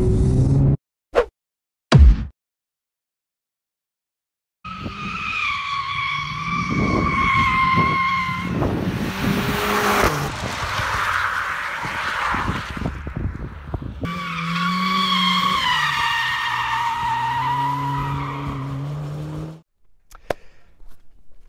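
Tires skid and squeal as a hot hatch oversteers hard into a corner on a test track, either a Mercedes-AMG A45 S or a Renault Mégane Trophy-R, with a long loud screech under engine noise after brief clicks.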